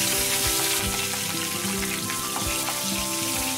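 Green chillies sizzle in hot oil in a pan of tempering for Chettinad potato fry, a continuous close crackling fry with small pops, with no talk.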